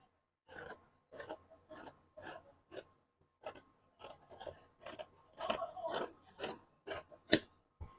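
Scissors cutting fabric for a handkerchief skirt: a series of short, crisp snipping and rasping strokes at a steady, uneven rhythm, close and fairly quiet, with brief pauses between cuts.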